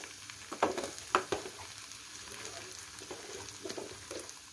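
Yam pieces fry in a pan with ginger-garlic paste for a tomato curry, giving a soft sizzle with a few brisk stirring scrapes early on, then a quieter steady hiss, close by with no talk.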